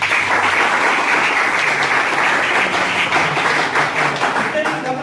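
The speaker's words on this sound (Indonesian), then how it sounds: "Oke, beri tepuk tangan dulu." A classroom of students claps together in sustained, dense applause, steady and fairly loud for several seconds before easing slightly at the end.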